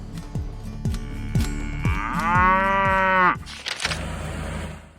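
A dairy cow at a feeding fence gives a loud, close, drawn-out moo after a few short grunting calls, with other cattle faint in the background.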